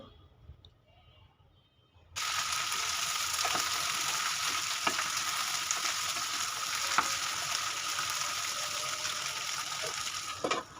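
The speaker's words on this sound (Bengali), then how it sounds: "ঢেঁড়স ভাজি করব, তো ঢেঁড়স ভাজাটা হচ্ছে আমি কালো জিরা ফোড়ন দিয়ে বসিয়ে দিয়েছি।" Okra frying in oil with a black cumin tempering sets up a loud, even, close hiss that starts abruptly after a quiet moment and holds steady, with occasional faint clicks and stirring sounds, no talk.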